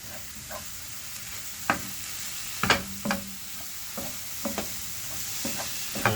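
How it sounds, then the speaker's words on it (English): Chicken jalfrezi ingredients sizzle in a pan while being stir fried, with a steady frying hiss under scattered sharp scraping and clattering strokes of the utensil against the pan, close and fairly loud, no talking. "I'm just going to stir fry them for about 2 to 3 minutes."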